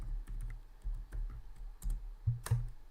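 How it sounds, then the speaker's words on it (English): Computer keyboard typed on right beside the microphone, with soft irregular key clicks and thumps, a couple of louder presses near the end, in a quiet room. "I'm like typing around my microphone"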